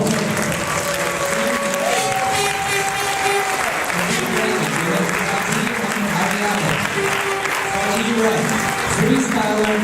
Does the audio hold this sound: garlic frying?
no